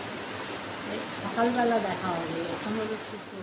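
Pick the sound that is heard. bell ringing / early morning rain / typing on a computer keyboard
early morning rain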